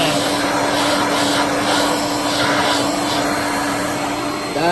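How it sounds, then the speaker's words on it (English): A Shark Navigator Swivel Plus upright vacuum cleaner runs steadily at full power, a loud continuous whooshing roar with a faint hum, heard alone. "This is going to show the true immense power of this vacuum."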